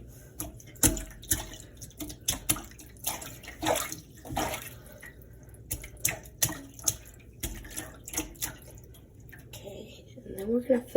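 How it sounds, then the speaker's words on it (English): Hands splash and slap water in a sink in an irregular series of wet bursts, close and moderately loud, with a running faucet faintly beneath. "Splashing just my hands."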